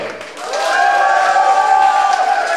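Wedding guests clap and cheer for the first competing couple, a steady crowd roar with raised voices that swells after a brief quiet start and holds loud to the end.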